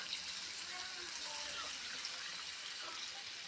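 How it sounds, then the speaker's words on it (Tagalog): Water is poured into a cooking pot as a steady, faint splashing gush that runs throughout. "lagyan natin ng tubig."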